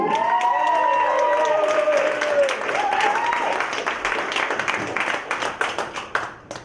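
Comedy club crowd at Wiley's Comedy Joint applauding and cheering a comedian, loud dense clapping with whoops that thins out toward the end, while a voice talks over the start.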